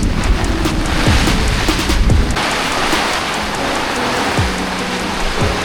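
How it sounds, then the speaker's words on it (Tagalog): Heavy rain pours down on a campsite during a typhoon in a dense, hissing roar, loud and constant with scattered heavier drops. "Sobrang lakas ng ulan, hindi kami makaalis."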